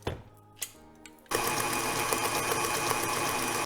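An electric mixer whirs steadily as it blends lemon juice into cake batter. A few soft kitchen knocks come first, then the loud motor runs continuously until it cuts off.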